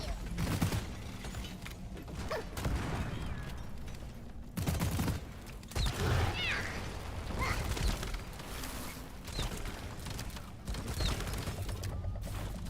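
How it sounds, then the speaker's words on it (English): A pheromone dart gun fired in the co-op shooter Deep Rock Galactic, with mechanical clanks, creaks and sharp shots amid a busy, clattering battle mix of repeated bursts. "I'm shooting the pheromone dart"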